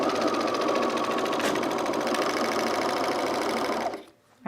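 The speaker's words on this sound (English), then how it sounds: "we're going to overlock this seam" An overlocker stitches a seam on underwear with a fast, steady mechanical whirring and rattle that runs loud and unbroken for about four seconds, then stops abruptly near the end.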